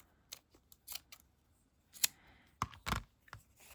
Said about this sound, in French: je vais me couper un autre morceau